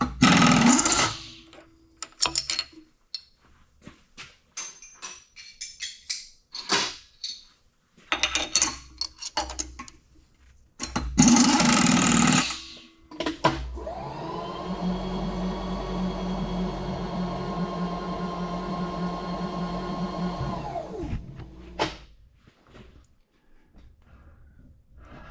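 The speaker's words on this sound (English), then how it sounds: "now we're ready to start drilling again" Drilling holes in small three-point parts for an applicator project, a sustained steady machine whine running about seven seconds, preceded by scattered clanks and handling noises of the shop.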